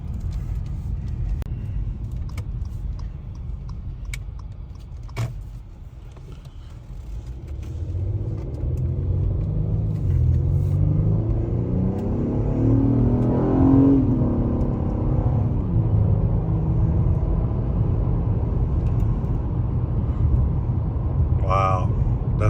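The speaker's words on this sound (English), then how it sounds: "Definitely hear the intake suck now." Acura TLX A-Spec AWD (2019) with a K&N air filter accelerating, engine and intake noise rising in a swelling rumble with a climbing whir around the middle, heard from inside the car.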